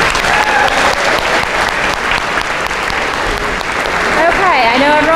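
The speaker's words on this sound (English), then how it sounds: "Another round of applause for all our speakers." Loud, dense applause from a graduation ceremony audience for the speakers runs steadily throughout, with cheering and whistles rising near the end.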